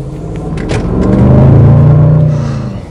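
A deep engine rumble from a 2021 Range Rover Sport SVR swells as it revs, growling louder and holding steady before easing off.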